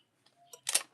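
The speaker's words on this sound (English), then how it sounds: "Spray generously from afar, please, not too close." Hair spray from a can misted onto a sectioned, combed lock during straightening and curling, a short close hissing burst of about a quarter second after faint handling clicks, alone.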